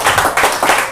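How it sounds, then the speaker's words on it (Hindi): Brief, loud, rhythmic clapping rises from an audience at a poetry recitation, a short close burst with no voices. "इरशाद, जोरदार तालियां।"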